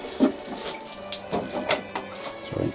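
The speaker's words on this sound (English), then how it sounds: "So now fill that up, and any excess water will come out." Water poured into a five-tiered Outsunny planter, splashing and trickling unevenly with gurgles and small splats as the excess runs out, fairly close and with no talking.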